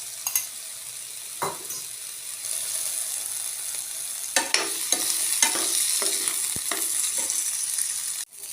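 Raw green tomatoes fry in oil in a pan with a steady close sizzle, broken by scraping stirs and clinks throughout, no voices.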